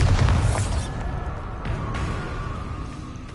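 A Bombarda blast from the Hogwarts Legacy spell lands as a loud, close boom with a dense burst at the start, then a rumbling tail that fades over a few seconds, with no talking.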